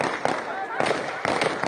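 Taliban gunmen on fences and walls spraying an airport crowd with gunfire, a few distinct shots cracking at intervals amid crowd noise and voices.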